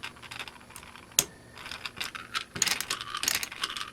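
Bits rattle in a vintage 1980s Radio Shack Archer ratcheting screwdriver, with close, dry clicking and clattering in irregular bursts and one sharp snap, getting busier toward the end.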